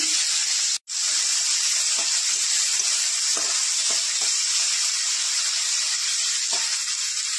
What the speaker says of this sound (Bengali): কড়াইতে তেল নিয়ে নিয়েছি, গরম হয়ে গিয়েছে। সাদা তেল। চিংড়ি মাছগুলো দিয়ে দিলাম।